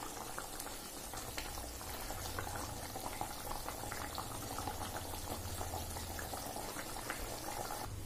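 Keluthi fish curry simmering in a pot, a faint, steady bubbling and gentle boiling that carries on evenly with no voices.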